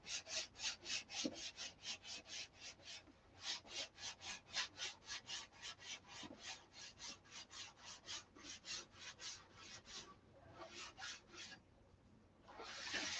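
Sandpaper rubs car paint during a Viper paint detail, giving a long run of steady back-and-forth rasping strokes at a quick even rhythm, close and soft, with a short pause near the end before one last stroke.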